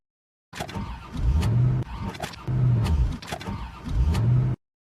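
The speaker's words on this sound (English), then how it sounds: "Looks like we have a problem with the car. The engine is overheated." A car with an overheated engine makes three labored engine bursts, each lasting about a second, separated by brief pauses and heard close up with no voices.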